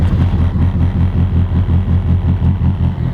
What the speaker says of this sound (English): I will never get over how great this Evo sounds.